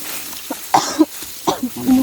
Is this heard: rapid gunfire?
no